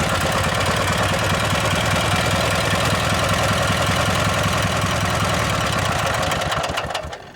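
A garden planter riding tractor's small engine runs loud and steady with a rapid chugging pulse while the machine backs up, then cuts off abruptly at the end.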